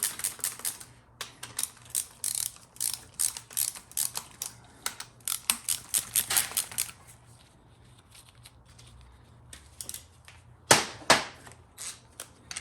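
An impact wrench runs down bolts during final assembly of a GM 4L60E automatic transmission. A quick series of short, rattling hammer bursts is followed by a pause, then a louder final flurry of bursts.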